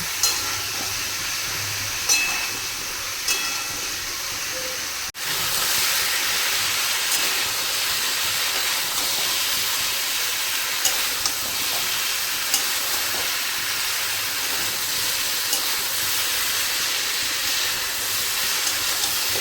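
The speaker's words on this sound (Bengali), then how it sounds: "কুমড়ো আর বেগুনটাকেও আলু আর পেঁপের মতন করে ভেজে নিতে হবে" Pumpkin and eggplant fry in oil in a kadai with a dense, steady sizzle close by, and a single sharp clunk partway through. No one speaks.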